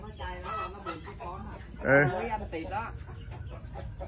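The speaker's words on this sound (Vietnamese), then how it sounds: "cái nhà này nuôi gà này" Chickens in a chicken house on a rural farm in Tay Ninh, Vietnam, cluck and call over steady barnyard murmur, with one louder squawk midway while people talk nearby.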